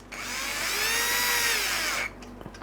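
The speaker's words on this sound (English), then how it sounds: "M3x8 screws, that is a little bit fast. There we go. I'm only putting 2 of the 4 screws in" A power driver sets M3x8 screws into a 737 autopilot panel part, one loud continuous whirring burst of about two seconds at close range, then stopping abruptly with a faint click after.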